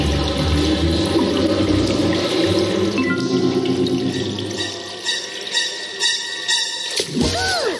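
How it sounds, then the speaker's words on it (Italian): A cartoon shower runs with a steady wash of water under bright, tonal musical sounds, ending in a short swooping effect. "Una bella doccia rilassante."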